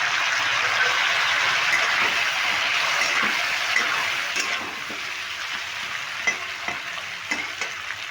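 Boiled peas hit lightly fried potatoes in a pan for a vegetarian cabbage ghonto, giving a loud, steady sizzle with scattered scrapes and clinks of stirring that eases slightly partway through.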